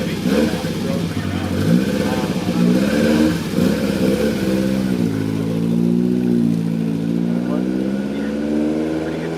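A 1983 VW Rabbit GTI race car on a track, its engine loud and close from the cabin, revving and dropping through gear changes as it brakes and accelerates, with someone talking over the engine.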